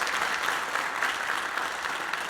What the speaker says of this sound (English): let's have one more round of applause for the Dutchtown Middle School Brass Duet